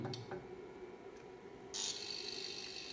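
An Elex Kulon-Q500 UPS switching from battery to mains power, a faint clicking followed by a sudden, steady crackling hiss that holds to the end.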